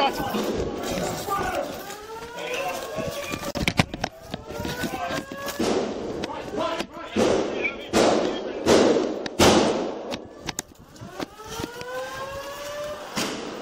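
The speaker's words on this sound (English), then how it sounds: "Shots fired." Sharp gunshots crack one after another during a police entry into a building, loud and echoing in indoor spaces, mixed with thuds, movement and shouted voices.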